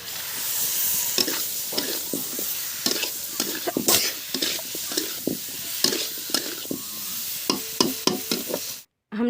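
Vegetables tempered in a little hot oil in a kadhai, with a spoon stirring and scraping through them in repeated sharp clicks over a steady close sizzle, no talk, cutting off abruptly at the end.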